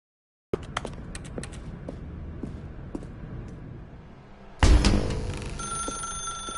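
A desk telephone rings repeatedly in The Stanley Parable, a steady series of close, bright rings, then a loud clatter as the phone is handled or unplugged.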